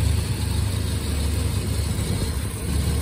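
A 1993 Jeep Wrangler Sahara YJ's 4.0L inline-six idles steadily up close, a low, even rumble with a hiss over it and no talk.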